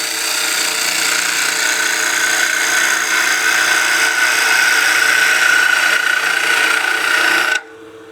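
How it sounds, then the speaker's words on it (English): A spindle gouge cuts into a wooden pot spinning on a lathe, giving a loud, steady scraping hiss with a sustained high ringing tone that runs for over seven seconds, then stops abruptly, leaving a faint motor hum. "I will be using the spindle gouge for basically the first third of this pot"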